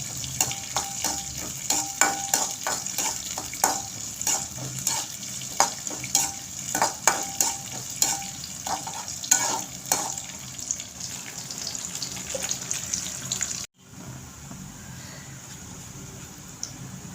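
Sesame oil fries in a pan for Chettinad-style fried idli, a steady close sizzle broken by repeated sharp stirring clinks. After a brief cut, a quieter, even sizzle continues.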